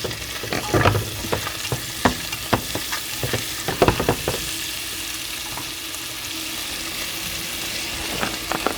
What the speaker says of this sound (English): let's use the leftover oil and cook the shrimp really quick